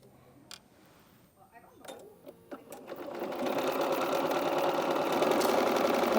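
Sewing machine stitching red fabric appliqué onto a child's cap, starting with a few scattered clicks, then running steadily and loudly in a continuous whirring hum while someone speaks over it.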